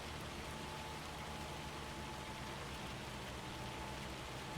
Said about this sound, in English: this is not a significant amount of rain. It's a very light.